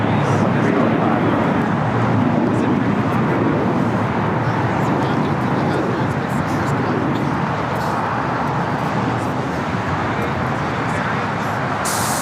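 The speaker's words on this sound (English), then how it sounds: "That was JetBlue Airways like 188 heading to Boston" A JetBlue Airways jet airliner bound for Boston passes at LAX, producing a steady broadband engine rumble that holds at even strength, then eases slightly toward the end, with a voice talking over it.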